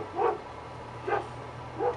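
Three short barks from dogs among sheep, spaced about a second apart, somewhat distant, over a low steady engine hum.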